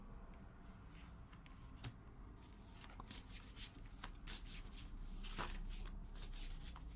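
Tarot cards are shuffled close by in a quiet room, making a soft, steady riffling and sliding that continues throughout, faint overall with a few crisper flicks.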